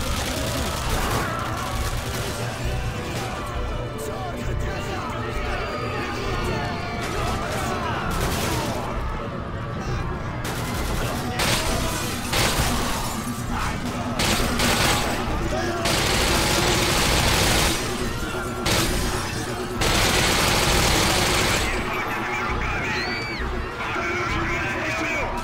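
Sustained automatic gunfire tearing apart a pillar in Call of Duty: Modern Warfare 2, loud continuous bursts with debris crackle and cluttered battle noise, while someone talks over it.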